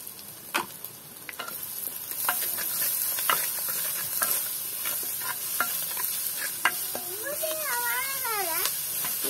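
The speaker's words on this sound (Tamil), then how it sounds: "வெங்காயம் கொஞ்சம் வதங்கி வர நாங்கள் இடிச்ச உள்ளியை போட்டு வதக்குவோம். உள்ளியையும் இஞ்சியையும் போட்டு வதக்குவோம்." Crushed garlic and ginger sautéing with onions in a pan at an outdoor Jaffna village kitchen. A faint, steady sizzle runs under scattered stirring scrapes and taps, with a wavering, cat-like cry rising near the end.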